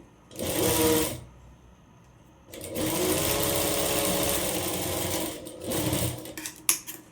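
A sewing machine stitches an umbrella frock in three bursts of rapid whirring, a short run, a long steady stretch, then a brief final run, separated by quiet pauses with a few small clicks at the end.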